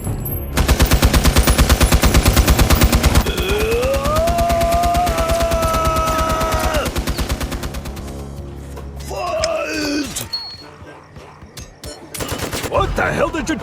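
Sustained rapid automatic gunfire rattles loudly in the video game Sintopia, a dense burst lasting several seconds under droning music, then fading into scattered thuds and swooshing effects.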